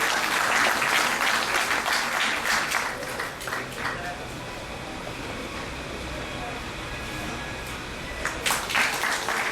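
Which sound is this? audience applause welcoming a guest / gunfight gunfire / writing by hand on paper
audience applause welcoming a guest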